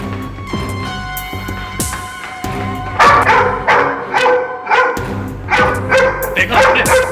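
A dog barks loudly and close by in a sequence of sharp barks and yips, with people talking over the barking throughout.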